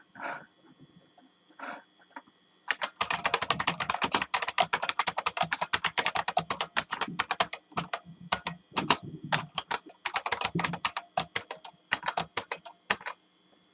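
Fast, close clattering keystrokes of someone typing code on a computer keyboard, starting with a few scattered taps and continuing in dense bursts with brief pauses.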